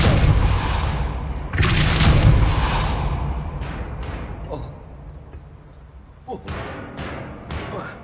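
Several heavy Bombarda spell blasts from Hogwarts Legacy on PS5: booming explosions with a whooshing tail. A loud sustained burst comes first, then a series of shorter, sharper cracks spaced apart.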